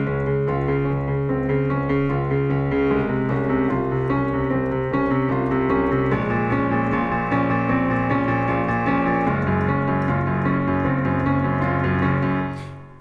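A continuous piano loop repeats steadily with layered sustained notes and a low bass line, played alone at an even, full volume throughout.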